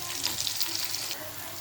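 Cumin, mustard seeds, onion and turmeric sizzle in hot oil as a tempering for moong dal, a steady close frying hiss with faint crackles throughout.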